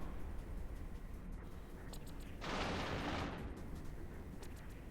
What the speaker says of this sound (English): I think it's kind of fun to watch these explosions.